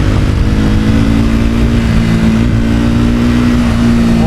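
A Triumph Speed 400 motorcycle pulling hard in second gear, its engine droning loud and steady with a slowly rising pitch as it accelerates, heavy rushing wind throughout and no talking.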